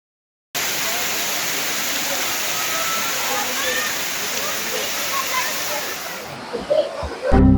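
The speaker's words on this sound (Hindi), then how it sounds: "ये जाना वाटरफॉल है" Jana waterfall near Naggar in Kullu roars as a loud, constant rush of falling water that starts abruptly and holds steady, with brief handling bumps and a voice near the end.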